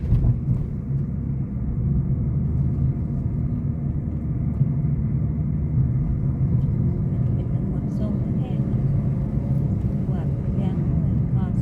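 A Suzuki Ciaz car engine in D gear pulls steadily up a steep mountain road to Phu Thap Boek, a continuous low droning rumble held under about 3,500 rpm, close and even throughout, with someone talking over it.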